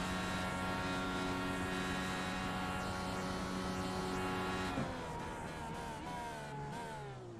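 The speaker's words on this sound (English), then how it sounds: "this time we'll go from the cockpit of Scott Ramler's IndyCar here." An IndyCar racing engine heard from the cockpit holds a loud, steady high-pitched whine, then drops in pitch and climbs again through several quick shifts as the car races around the circuit.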